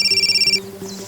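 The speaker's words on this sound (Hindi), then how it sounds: "मेरा फोन बज रहा है।" A mobile phone rings with a rapid pulsing electronic tone that stops abruptly, leaving a low background hum.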